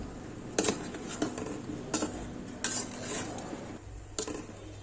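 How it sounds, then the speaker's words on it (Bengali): Potato and eggplant being stirred through spices in a pan, the spoon scraping the pan in sharp, evenly spaced strokes about every second over a steady low sizzle. "এরপরে এখন আলু বেগুনটাকে আমি ঠিক ওই একই মশলার মধ্যে কষিয়ে নিব।"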